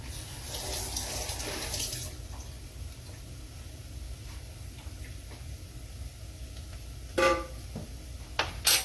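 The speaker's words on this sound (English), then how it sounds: "I'm going to wash this teaspoon for the salt." A teaspoon is rinsed under a running kitchen tap with a steady hiss of flowing water, then two brief louder splashes or clinks near the end.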